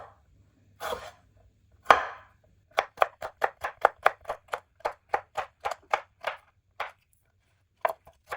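A knife chops fresh coriander on a board: a few scattered cuts, then a quick, even run of close, crisp chops that slows and trails off into a couple of final strokes, no talking.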